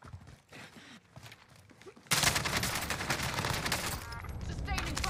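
Sustained automatic gunfire erupts loudly and fills the mix in Call of Duty: Warzone (Modern Warfare), with a 3-shot Krig rifle build, after a quieter stretch of distant in-game shots and radio-style callouts.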